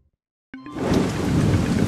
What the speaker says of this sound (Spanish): Mira, está lloviendo mucho fuera.